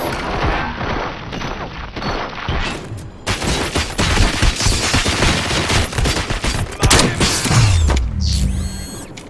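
Video game gunfire in RoboCop Rogue City erupts as a dense, crackling volley of rapid shots layered with mechanical clatter and booms, ending in a low rumble and a rising electronic sweep.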